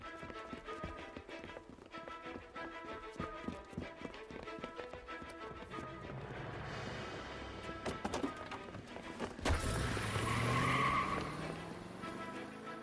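A car chase in the 1940s Los Angeles detective game L.A. Noire, with a steady rhythmic clatter giving way to a sudden loud tire skid and sustained squeal near the end, all under game sound with no talk.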